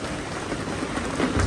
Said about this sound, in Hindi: देखिए ना बारिश ही नहीं थम रहा है